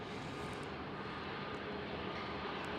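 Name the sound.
airliner landing with thrust reversers at Schiphol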